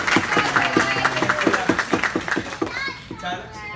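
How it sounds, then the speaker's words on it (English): Karate students' families and classmates clap in a quick, rhythmic beat at a dojo, the claps steady for a few seconds under children's chatter before tapering off. "Let's give them a round of applause."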